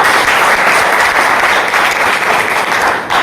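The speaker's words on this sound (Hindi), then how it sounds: "एक बार जोरदार तालियां।" Loud, steady applause from an audience at a company recognition event, dense clapping filling the whole stretch without a break and with no talk over it.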